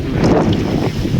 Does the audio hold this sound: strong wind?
yes